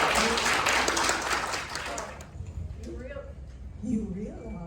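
Audience applause at a Night of the Living Dead film panel, dense clapping for about two seconds that fades out as voices begin talking over the quieter room.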